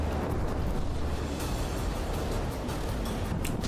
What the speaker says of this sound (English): I kind of love that my cram mortars are actually doing something in this.